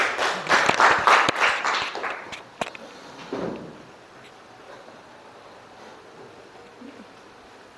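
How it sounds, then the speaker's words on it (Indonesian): Classroom applause for group 3 rises in a short burst of clapping, then fades within a few seconds into quiet room noise with a few scattered taps and shuffles. "tepuk tangan untuk kelompok 3"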